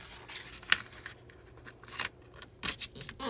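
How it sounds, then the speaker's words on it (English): Paper is folded by hand for paper crafting, making sparse crisp creases and rustles that come close and fairly quiet, with no talk. "So you just keep folding it."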